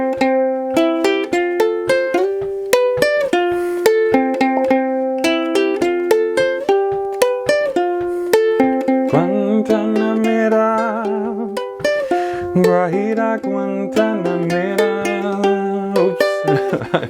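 Ukulele playing Cuban-style chords with the notes plucked in rhythmic arpeggios and a melody woven inside, a bright, steady stream of picked notes heard up close, with no talking.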